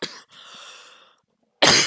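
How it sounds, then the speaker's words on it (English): A person coughs a few times up close, with a short burst at the start, a longer rough stretch after it, a pause, then one loud final cough. "Coughing."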